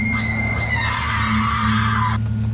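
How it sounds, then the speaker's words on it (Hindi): A woman's piercing, terrified scream rises and holds for about two seconds, then cuts off sharply. It plays as a horror-story sound effect over a low, droning background. "तभी अचानक एक दिल दहला देने वाली भयानक चीख उनके कानों से टकराई।"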